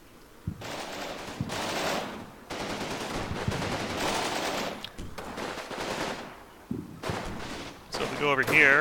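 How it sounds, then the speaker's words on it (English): Mortars firing in a video game training campaign, heard as repeated loud bursts of rapid gunfire and blasts in several separate volleys with short gaps, ending in a sharper, louder burst. "So if we go over here, we can actually see the mortars firing."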